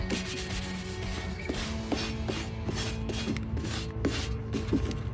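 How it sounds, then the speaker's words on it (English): Steady, close rubbing and scratching as a furniture surface is scuffed by hand before painting, continuous strokes with no talk. "So I'm just going to scuff them up a bit."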